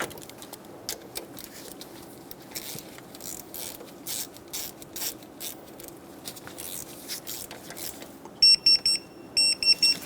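A ratchet tightens a bolt on a ground strap bracket of a 1994–1997 Honda Accord 2.2L four-cylinder. Quiet scattered clicks build into a few quick, loud bursts of rapid ratcheting near the end.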